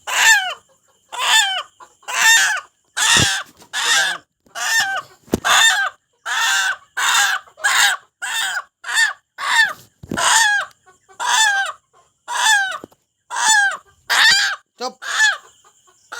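A caught desi rooster squawks loudly and close up in a long run of harsh, evenly spaced bursts, roughly one each second, with almost nothing between the calls.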